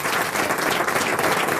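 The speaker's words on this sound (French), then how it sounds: "On applaudit." Studio audience applauding on the French radio panel show Les Grosses Têtes, a dense, steady wash of many hands clapping, loud and close throughout with no voices.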